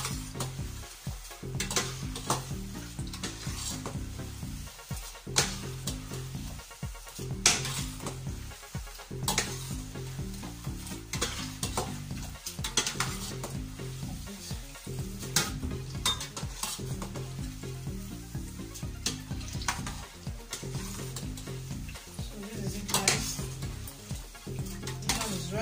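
Coated peanuts are stirred in a frying pan over a gas flame, with a steady scraping rhythm against the pan and a soft continuous sizzle throughout.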